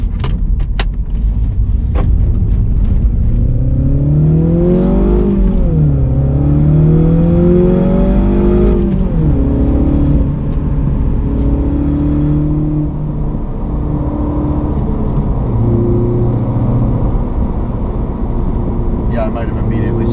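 A 2016 Mini Cooper S in sport mode pulls away hard, its engine note rising and falling through the gears, loud and close from inside the cabin, with a voice talking over it.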